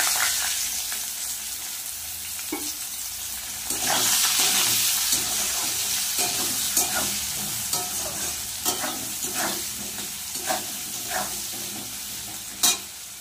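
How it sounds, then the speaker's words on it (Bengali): Chopped onions sizzling steadily in hot oil in a pan, with a spatula scraping and stirring at intervals, close and moderately loud, for a dish of potato, eggplant and bhola fish. "কেটে রাখা পেঁয়াজ দিয়ে দেবো।"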